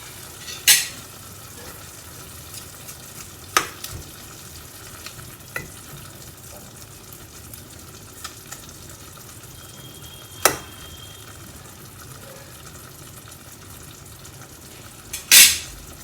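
Beef and onions simmer in a pan over lowered heat, giving a steady low bubbling hiss with a few sharp clinks of a utensil against the pan scattered throughout; no one speaks.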